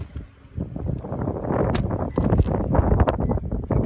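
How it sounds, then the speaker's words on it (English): Outdoor wind hits the microphone beside a 2015 Lexus ES 350, producing close, irregular low rumbling and thumping gusts that grow stronger toward the end. "It's a little windy out."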